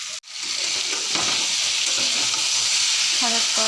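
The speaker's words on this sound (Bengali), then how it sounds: "মশলা দিয়ে ঝিঙ্গা আর আলু দিয়ে ভালো করে কষাই নিলাম।" Ridge gourd and potatoes fry with spices in a hot pan, making a loud, steady sizzle that starts abruptly and carries on with light stirring scrapes.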